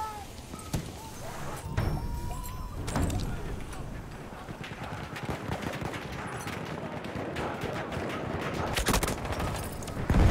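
Gunfire crackles throughout a Battlefield 1 match as a sniper fight plays out, with busy, overlapping shots and battle noise at moderate level, and a player's voice talks over it in places.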